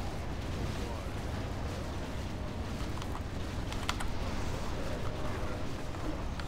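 Barrage of A-bomb unit fire in Warcraft III's Azeroth Wars map, a dense, continuous rumble of overlapping booms and explosions filling the whole stretch, with a few sharper cracks standing out midway.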